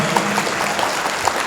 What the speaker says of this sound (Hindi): एक बार जोरदार ताली नाज़े मुशायरा के लिए